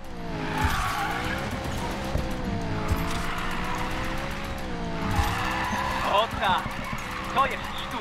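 Car drifting with tyre squeal in Need For Speed Payback, a BMW M3 E92, with a steady engine drone and screeching tyres sliding throughout, under a voice talking over the game.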